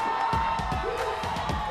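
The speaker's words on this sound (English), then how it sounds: "You can hear the crowd behind us taking the first victory." A live crowd cheers and whoops at a Mobile Legends esports league match in the Philippines after a game win, a lively roar mixed with a caster's excited voice.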